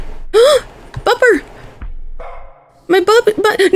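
Bupper, a dog in the horror game Lost in Vivo, gives a few sharp, loud barks and yelps in short bursts, separated by quieter gaps.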